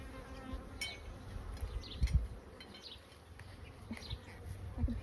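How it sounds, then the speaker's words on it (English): Bees buzzing faintly around a new beehive during a first spring inspection outdoors, a low continuous drone with occasional closer passes and light rustling. "It might be loud because the bees and like people are doing things outside."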